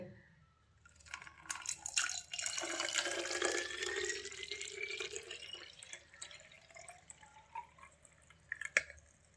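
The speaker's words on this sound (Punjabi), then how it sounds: "ਪਾਣੀ ਦੀ ਬੋਤਲ ਭਰ ਗਈ" Water from a tap runs and splashes into an empty plastic rosewater bottle as a homemade lizard-repellent mixture is prepared, a steady trickling fill with drips, moderately close, no talk.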